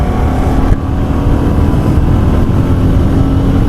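A Royal Enfield Classic 350 motorcycle pulls through its gears in city traffic, a loud, steady engine drone with a brief dip near the start and wind rush over the microphone.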